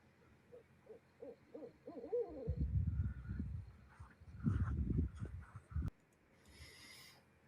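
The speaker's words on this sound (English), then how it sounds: "I love barred owls." A barred owl hoots on a warm Arkansas night, its rhythmic calls rising and falling in a faint, distant series over quiet background noise, with no talking.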